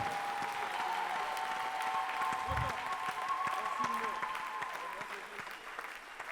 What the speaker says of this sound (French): Applaudis très bien pour le Seigneur.